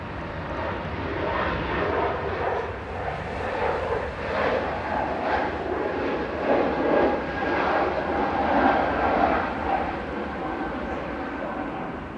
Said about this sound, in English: That was Air Baltic operating for Swiss Air back to Zurich with flight 381.